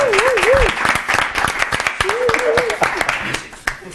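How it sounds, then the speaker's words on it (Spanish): A crowd at an Arduino Day maker event in La Rioja claps loudly, with sharp individual claps standing out, while a voice calls out with a rising and falling whoop at the start and again midway. "un aplauso y muchas gracias"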